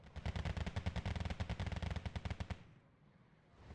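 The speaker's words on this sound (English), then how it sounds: "Got my T-72 firing the last shot onto the Volksjägers." A T-72 tank fires in the video game Wargame: Red Dragon, a loud, rapid burst of evenly spaced shots for about two and a half seconds before it cuts to a low, quiet rumble.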